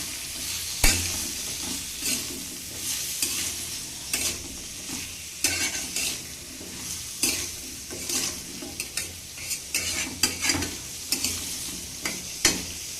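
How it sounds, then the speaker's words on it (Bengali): Egg and potato curry with salt and turmeric sizzles in a pan while a spatula stirs it, giving irregular scraping knocks over a constant frying hiss. "দেখুন এখানে পরিমাণ মতো লবণ হলুদ দিয়ে নিয়েছি এবার এটা নেড়ে চেড়ে মিশিয়ে ঢাকা দিয়ে দেবো"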